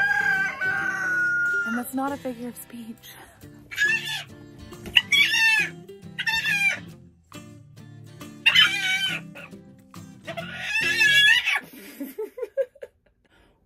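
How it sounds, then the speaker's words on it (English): A rooster standing in a home shower gives repeated loud nearby crows and clucks in bursts, alternating with someone talking. "There's a rooster in my shower."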